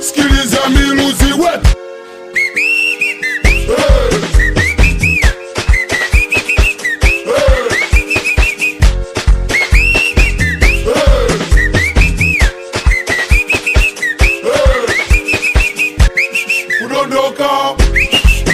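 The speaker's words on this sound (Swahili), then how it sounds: "sikiliza miluzi" Whistle tones rising and falling over a busy dance beat in a Kisamba song, repeated whistle phrases cutting in loudly throughout among drums and music.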